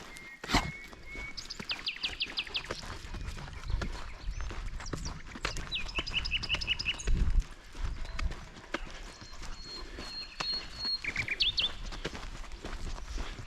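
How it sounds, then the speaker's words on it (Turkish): Birds sing and chirp in short, high trills scattered through the clip, over steady clip-clopping hooves and rustling outdoor background. "Baharın zevki bu. Kuş sesleri."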